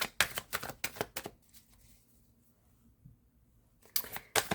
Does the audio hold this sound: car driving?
no